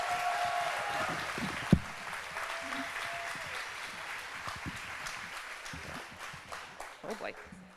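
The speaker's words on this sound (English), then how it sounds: "Let's hear one more round of applause for those amazing puppy raisers." Applause for the puppy raisers at a service dog teams graduation. Many hands clap steadily and gradually fade, with a sharp knock early on and a voice starting to talk near the end.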